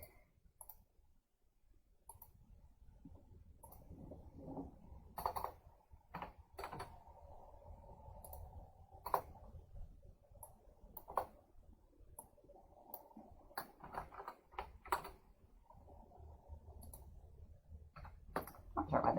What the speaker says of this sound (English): Not sure why the keyboard is acting up